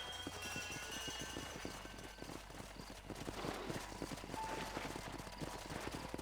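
A horse gallops in Red Dead Redemption, its rapid hoofbeats drumming steadily and close over a constant wash of wind and ambient game noise.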